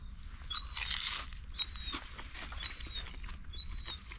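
Someone eats crispy fried haddock from a fish and chip shop, fried to order, with quiet close crunches and chewing in short bursts. Faint chirps sound in the background and nobody speaks.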